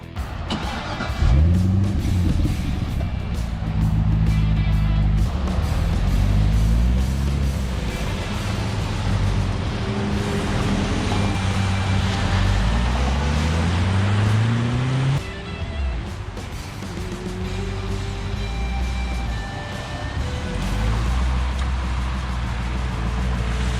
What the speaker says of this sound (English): here's a video of the car when we took it out for a test drive